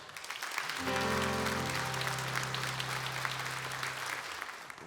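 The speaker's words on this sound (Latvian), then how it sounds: "Aplausi!" Audience applause at the Zelta Čiekurs 2025 forestry award ceremony, steady sustained clapping from a hall crowd with a low musical tone sounding beneath it through most of the clip.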